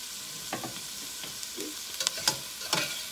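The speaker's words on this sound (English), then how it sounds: "mix it in to your green beans, I mean pinto beans that are already boiling" Seasoning being stirred into a pot of pinto beans already boiling on the stove, giving soft scraping stirs and light bubbling with a few sharper clinks near the end, close and fairly quiet with no talking.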